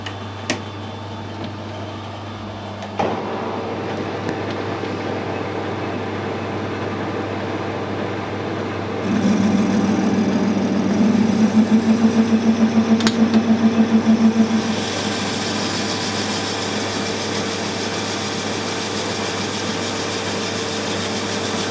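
A lathe machining a big bronze bush runs with a steady mechanical hum, then a rough grinding cut swells midway with a buzzing, rapid tool chatter before settling back to a continuous whir.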